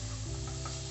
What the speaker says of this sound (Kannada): ಫ್ರೈ ಮಾಡ್ತದ